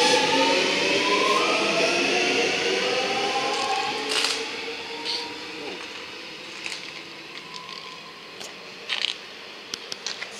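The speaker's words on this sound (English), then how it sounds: "the train's about to depart" A Belgrave line train departing Ferntree Gully station: low rumbling with rising electric motor tones, steady and moderately loud, fading gradually with a few sharp clicks toward the end.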